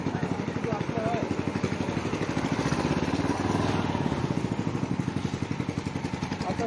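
A motor boat engine throbs in a steady, fast pulse while cruising a river near Amiakhum in Bandarban, loud and close throughout, with voices faintly mixed under the running motor.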